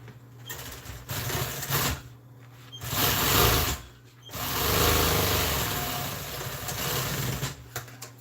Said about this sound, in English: I'm gonna go ahead and sew these on.